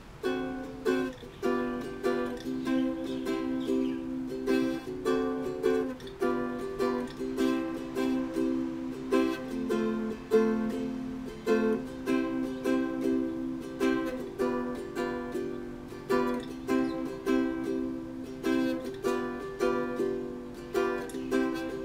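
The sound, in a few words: ukulele chord progression with Hawaiian vamp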